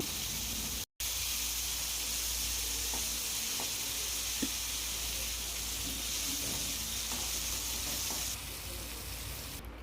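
Chopped tomatoes sizzle and crackle steadily in hot oil with onions, with a few soft clinks of a utensil against the pan.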